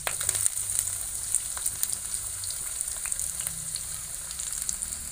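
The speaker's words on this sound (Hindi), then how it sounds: "फिर हम प्याज डाल देते हैं कटा हुआ।" Chopped onion, with green chilli already added, sizzling steadily in hot mustard oil in a kadhai, a dense continuous frying hiss with faint stirring clicks, close and alone without talk.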